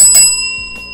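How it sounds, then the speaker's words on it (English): A host strikes a desk bell twice in quick succession, each a bright metallic ding that rings on and decays over about a second, close and loud. "Let me hit my bell."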